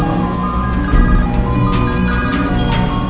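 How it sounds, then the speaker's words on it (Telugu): A phone ringing with an incoming call, a loud repeating electronic ringtone in clear bursts over a busy background of music. "అన్నా ఆడి ఫోన్కి డిఎస్పీ ఫోన్ చేస్తున్నాడు అన్నా."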